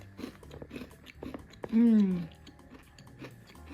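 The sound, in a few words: chewing a crispy homemade chocolate chip muffin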